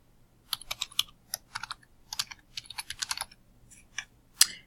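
Fingers typing on a computer keyboard to fill in a name and email address, irregular bursts of light clicking keystrokes close by, pausing briefly and ending with one sharper key press.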